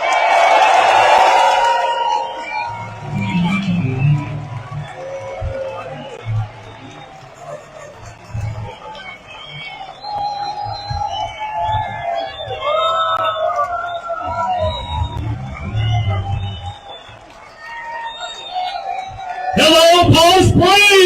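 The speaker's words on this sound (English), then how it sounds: "See this crowd fired up!" Large crowd cheering and shouting at an outdoor protest rally in a downtown park in Palm Springs, with swelling waves of crowd noise, loud voices over a PA system, and a sharp loud burst near the end.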